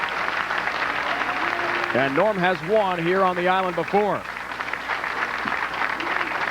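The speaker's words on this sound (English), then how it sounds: "you can hear the Duke cheers" A crowd cheers and applauds at a 2006 PBA Columbia 300 Classic bowling tournament on Long Island. The cheering swells at the start and end, and a commentator talks over the middle.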